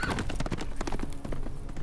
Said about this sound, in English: You honestly could have like killed this horse or something.